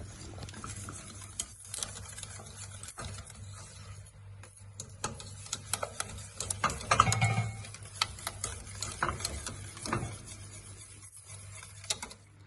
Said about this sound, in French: Et là, on mélange pour faire fondre le fromage.